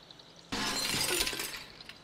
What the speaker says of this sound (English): I'm gonna break the glass.